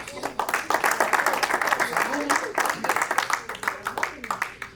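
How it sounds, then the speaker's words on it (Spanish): Church congregation at a sermon applauds in dense, rhythmic clapping, loud and sustained, with voices and some singing or calls mixed in throughout. "Un aplauso"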